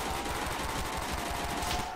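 Rapid FAL rifle fire in a Call of Duty: World at War Nazi Zombies custom map, a steady stream of close, dense shots filling the whole stretch with no pause.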